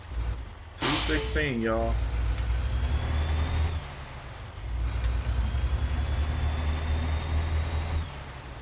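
A Peterbilt 389 truck in American Truck Simulator hisses a sharp air-brake release before its diesel engine rumbles on steadily at low pitch, with someone talking over it.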